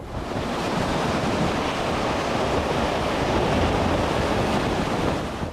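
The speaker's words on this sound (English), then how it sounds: "As the storm hit, the waves surged violently, slamming against the boat, raising the risk of it overturning." Stormy sea waves surge and crash around a boat, a dense continuous roar of surf and wind rushing steadily and loudly with no voices.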